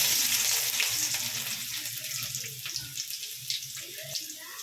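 Mustard seeds, dal and garlic sizzling in hot oil in a pan while cooking a banana stem kootu, a steady crackling fry close by with light popping.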